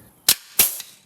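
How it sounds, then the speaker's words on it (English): Two sharp, loud metallic bangs about a third of a second apart, with a fainter thud just after the second, as a punch tool strikes through the sheet metal of a VW Karmann Ghia seat rail. "see if this will punch holes in here"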